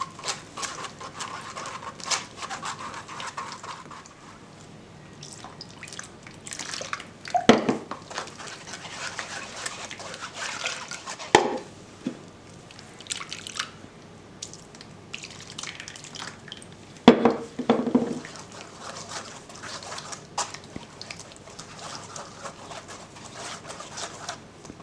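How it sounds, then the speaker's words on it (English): Quiet, uneven dripping and trickling of thick liquid through a strainer, with occasional small clatters in an otherwise calm space. "put some water and just try to pass it through my strainer"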